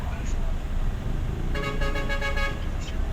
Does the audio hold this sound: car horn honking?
yes